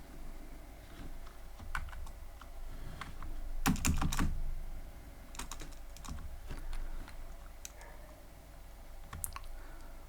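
Someone types on a computer keyboard while coding a Pong game in Python, with irregular bursts of close key clicks and a louder cluster of rapid strokes partway through.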